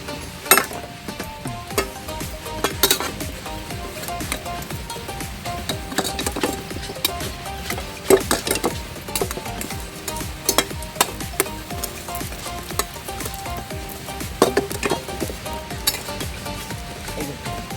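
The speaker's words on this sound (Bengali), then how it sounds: "এই শুটকিটা উল্টে দিচ্ছি, এরকম পুড়ে পুড়ে যাচ্ছে।" Dried fish dry-roasts without oil in a wok, giving a steady crackling sizzle broken by repeated sharp scrapes and clinks of the turning spatula, close and loud.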